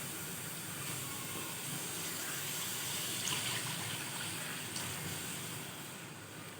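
Water is poured steadily into a cooking pot of sautéed masala for khandwiyon ka salan, a soft continuous splashing and gurgling stream that stays close and moderate, with no talking.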